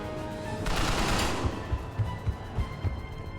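Turret gunfire in a video game: a loud burst of broadband gunfire early on, followed by a series of regular, punchy low thumps from repeated shots.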